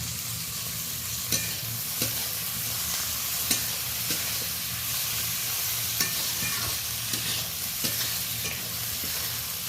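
Chopped onion and tomato fry in oil in a pan with green chilli and whole spices. A steady close sizzle runs throughout, broken by sharp scrapes and clicks as a spoon stirs every second or two.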